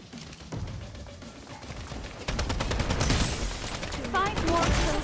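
Video game combat with a grenade and gunfire: rapid rattling bursts of gunshots that grow louder and denser, a heavy blast-like thump midway, and a few chirpy electronic effects near the end, with faint speech underneath.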